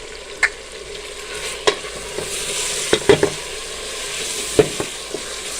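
Whole spices such as cinnamon, cloves, black pepper and black cardamom frying in oil, with a steady low sizzle and a few sharp clicks and scrapes as a spoon stirs them around the pan.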